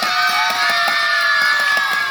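Crowd of village children shouting and clapping at an outdoor magic show, a dense, loud, continuous wash of voices with scattered claps throughout.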